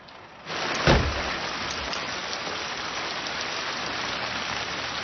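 Heavy rain pours down, starting abruptly with a loud crash-like surge, then holding as a dense, constant roar.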